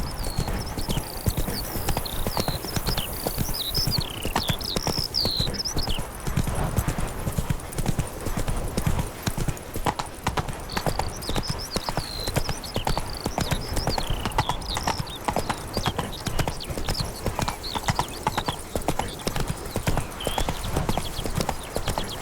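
Horse hooves galloping in The Witcher 3 video game, a steady rapid clip-clop rhythm that runs throughout, with occasional whinnies and a faint voice in the background.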